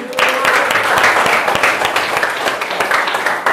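A classroom of students claps together in sustained, dense applause that stays steady for a few seconds, close and fairly loud, with no talking over it.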